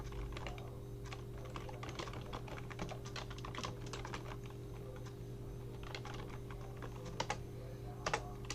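Steady clicks of keys being pressed on a computer keyboard, a close, continuous run of typing over a low constant hum, with a few sharper taps near the end.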